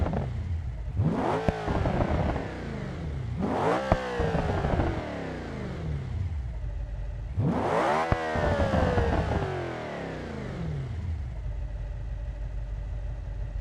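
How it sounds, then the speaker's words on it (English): A twin-turbo V8 in a Toyota GR GT inside BeamNG.drive revs loudly three times from idle, each rise and fall sweeping up and back down, then settles to a steady idle, with no talk. "Let's actually hear the beautiful bi-turbo V8"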